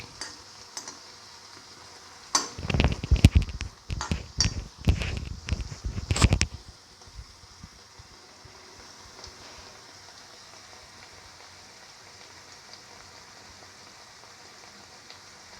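Winter melon chickpea flour fritters frying in hot oil, with a burst of loud crackling and spattering bubbles for several seconds that then settles into a quiet, steady sizzle.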